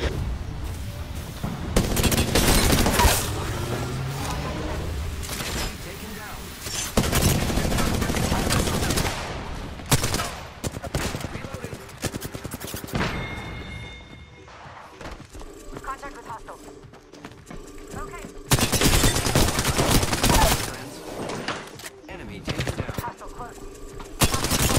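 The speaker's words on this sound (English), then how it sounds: "Just shoot those motherfuckers." Bursts of automatic and single-shot gunfire from the battle royale game Apex Legends, loud and repeated in clustered volleys with quieter gaps, mixed with excited voices talking and shouting over the shots.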